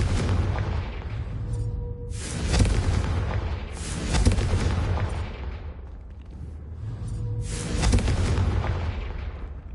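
Confringo, an explosive fire spell cast in the Hogwarts Legacy game, lands as several loud booming blasts with rumbling tails, the bursts arriving at intervals over a steady low background.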